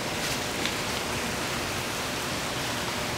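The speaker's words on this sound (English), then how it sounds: "I love when it rains outside." Rain falling outside at night, a dense, even wash of steady noise throughout with no distinct drops or voices.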